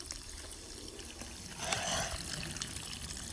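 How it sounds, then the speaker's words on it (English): Water sloshing and trickling steadily as a dinosaur laps up a drink, a continuous wet churn that swells a little midway, with no talking. "She is going to get a drink, so she laps up the water."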